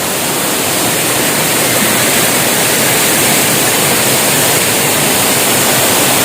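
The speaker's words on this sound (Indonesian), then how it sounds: "Air terjun ini bernama air terjun Pancawulu." Close and loud, the Pancawulu waterfall near Cibodas on Mount Gede pours as a steady wall of rushing, hissing water that never lets up, with no voices over it.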